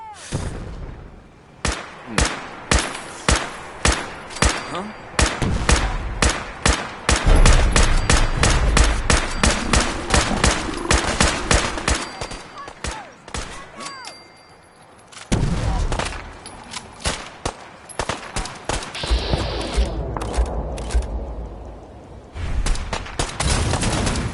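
Dense gunfire from the video game Fallout 4, loud rapid volleys and repeated shots that run almost continuously, with short lulls and a burst of heavier firing near the end.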